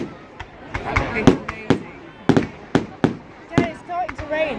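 Bonfire night fireworks burst in a quick irregular series of sharp cracks and bangs, some close and loud, with people talking between the explosions.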